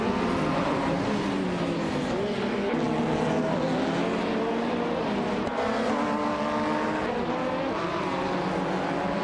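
Race cars in a video game race whine continuously at high revs, engine tones climbing and dropping through gear changes as several cars run nose-to-tail, with faint tire squeal.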